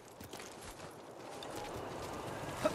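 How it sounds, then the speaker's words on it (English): Horse hooves clip-clop at a steady walking pace in a video game set amid fleeing from Mongols, fairly close and continuous over a low ambient bed, with a brief louder knock near the end. "What a good horse."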